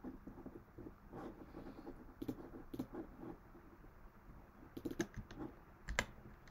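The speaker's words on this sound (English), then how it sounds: "I guess I'm probably typing this incorrectly." Computer keyboard keys tapped in quick irregular clusters at close range, quiet and dry against faint room noise.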